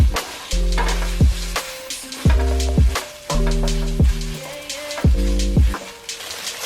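Tomato paste frying in a pan for spicy chilli crab, a steady loud sizzle broken by regular stirring scrapes that come every second or so, with no voices.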